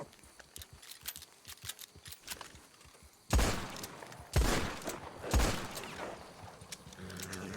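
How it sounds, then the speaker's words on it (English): Gunshots fired at an alligator in a Red Dead roleplay game: faint clicks and movement, then three loud, close, booming shots about a second apart, each leaving a short ringing tail. "How many times I have to shoot a gator?"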